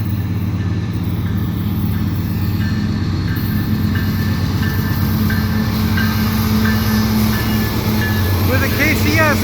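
A CPKC freight train with a KCS locomotive departs Dorval, its engines rumbling loudly and steadily with rolling wheel noise and a squeal near the end, while people talk nearby.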